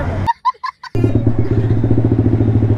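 A Yamaha R15 V3 motorcycle fitted with an SC Project exhaust rumbles loudly and steadily at idle with a rapid pulsing beat, after a few short bursts of bright chirping sounds.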